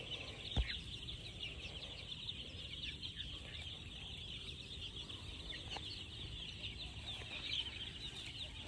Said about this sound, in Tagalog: Ang gandang mga sisiw.